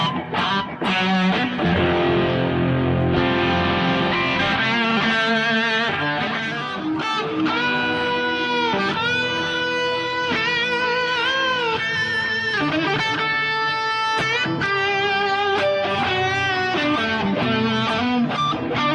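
Electric guitar solo, played through a G2-type distortion pedal: sustained, bending lead lines over a full, loud backing, continuous for the whole stretch with no talking.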